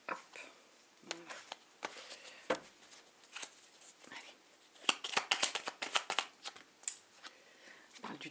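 A deck of cards is shuffled by hand in repeated quick riffles and snaps, close and crisp against a quiet room.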